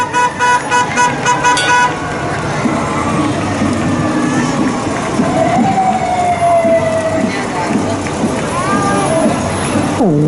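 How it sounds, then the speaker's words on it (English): A vintage fire truck in a small-town parade blasts a series of rhythmic horn toots, then a siren wails and rises over street noise and crowd chatter, with people talking nearby. "A wonderful vintage fire truck."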